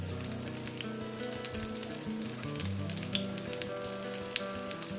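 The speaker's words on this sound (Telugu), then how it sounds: "ఒక ప్యాన్ పెట్టుకుని అందులో ఆయిల్ వేసుకుంటున్నాను. అలాగే కొద్దిగా ఆవాలు," Mustard seeds and green chilies sizzle and crackle in hot oil in a pan for cucumber poha, a steady close frying hiss with scattered sharp pops.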